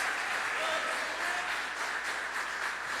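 A church congregation claps hands in worship in a steady, dense wash of applause, loud and continuous, with voices blended into the noise.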